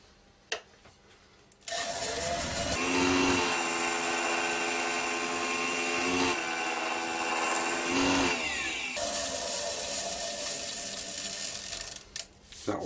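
A scraper skims a sycamore bowl spinning on a wood lathe, giving a steady, loud whirring scrape that holds for several seconds between quieter lathe hum at the start and end.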